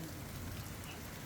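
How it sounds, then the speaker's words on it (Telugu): Rain and hail pour down in a hailstorm, a dense, steady patter of drops hitting surfaces all around. The downpour is continuous and fairly loud, with no talk over it. "అసలు వడగళ్ళు"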